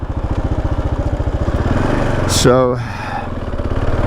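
A Kawasaki KLR 650 motorcycle engine idles close by with a steady loping pulse that briefly rises in a rev, while someone speaks a word over it.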